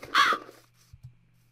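A single crow-like caw from a bird in modded Minecraft, loud and close, followed by quiet with a faint low hum and a couple of soft thuds.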